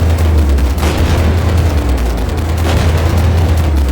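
Gunfire and heavy impacts pound a tank in the online game Armored Warfare, a loud, dense barrage of booms and blasts over a deep rumble, continuous and close throughout.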